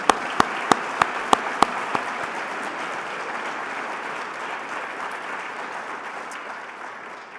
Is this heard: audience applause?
yes